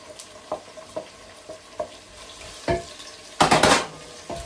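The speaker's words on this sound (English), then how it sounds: "Now I'll come and add my white onions inside here also." White onions go into a pan with a quiet sizzle under a series of spaced metal clinks and taps of a utensil, ending in a louder burst of scraping and clatter.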